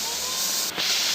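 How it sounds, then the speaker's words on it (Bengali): Boiled banana stem and potato going into a hot kadai give a loud, steady sizzling hiss that dips briefly partway through, then surges back, with no voices. "থোড় আর আলু যে সেদ্ধ করা হয়েছিল সেটা এখন দিয়ে দিচ্ছে কড়াইতে।"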